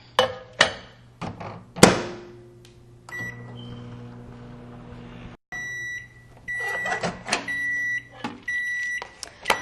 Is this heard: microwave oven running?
yes